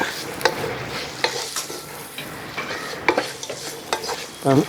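A spoon stirs carrot rice with spices and grated coconut in a frying pan, Kerala style, giving a run of scraping, clattering strokes over a soft sizzle, close and fairly quiet with a louder scrape at the end.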